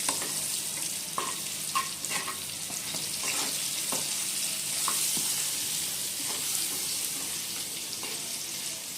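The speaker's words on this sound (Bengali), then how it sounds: "আর বেগুনগুলো আমরা কিন্তু এখানে খুব বেশি ভেজে নেব না" Eggplant pieces fry in hot oil with a soft, steady sizzle, broken by scattered light clinks and scrapes from a spatula, fairly quiet and close.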